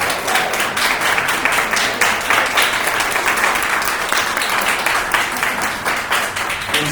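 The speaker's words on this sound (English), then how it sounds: "Give them a round of applause as well." Audience at a school board candidates forum applauds the candidates' families, a steady dense wash of clapping from a sizeable crowd lasting the whole stretch without speech.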